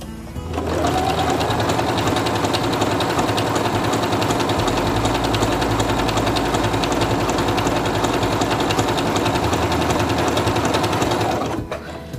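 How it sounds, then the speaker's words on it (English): Singer Quantum Stylist 9960 sewing machine stitching fabric, a loud, close, rapid mechanical whirring that starts, runs steadily for about ten seconds, then stops. "And I'm going to sew again to see what it looks like."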